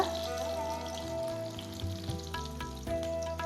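Spices and onions sautéing in a pan for pepper chicken, giving a steady close sizzle with soft stirring scrapes throughout, no voices.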